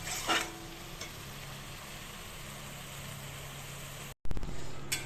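Spiced potatoes sautéing in a pan with salt, turmeric and Kashmiri chili powder, a steady close frying sizzle with stirring scrapes, briefly cut out near the end before resuming.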